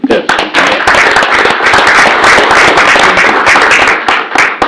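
Loud, close applause from a small audience at a city council meeting in Navasota, dense rapid clapping sustained across the whole stretch with a brief uneven start.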